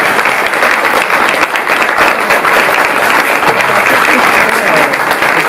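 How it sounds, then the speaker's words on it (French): Loud, dense applause from a lecture audience for speaker Luc Bigé, many hands clapping close together in a continuous roar that holds steady throughout. "On va encore applaudir Luc, merci beaucoup."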